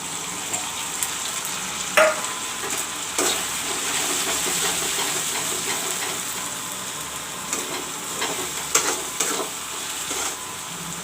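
Masala and salt fry in a pan for a chicken curry, giving a continuous soft sizzle and hiss with occasional sharper crackles and stirring scrapes, heard fairly close with no talking.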